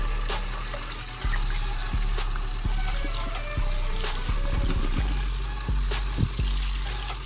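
Water from a tap rinses soap out of mountain bike grips, a steady close trickle and splash with a constant hiss and periodic low thumps as the flow shifts, no talking.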